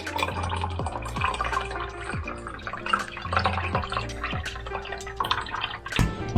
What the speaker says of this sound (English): Just pour the water in here.